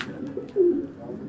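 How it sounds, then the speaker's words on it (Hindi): Pigeons coo softly in a racing pigeon loft in Quetta, with one nearer low throaty coo rising midway above faint rustling background, no talk. "बस किसी एक कबूतर की तस्वीर अच्छी आ जाए।"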